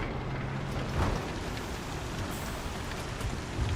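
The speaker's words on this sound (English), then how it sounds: "The rain sounds are annoying now." Steady rain in a video game, a dense continuous hiss of drops pattering on surfaces, even and fairly loud throughout with no voices.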